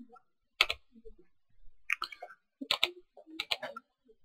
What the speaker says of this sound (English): To enter a viewport, we're gonna press the spacebar.